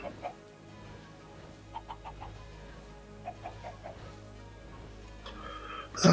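Video game chickens on a farm: soft, sparse clucks and short bird calls in scattered bursts over a steady low background hum, with a louder noise at the very end.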